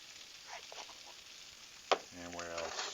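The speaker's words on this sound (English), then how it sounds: "a tablespoon of butter sauteing those onions" Onions sauteing in a tablespoon of butter in a pan, a soft, quiet sizzle with a brief utensil clink and a faint voice near the end.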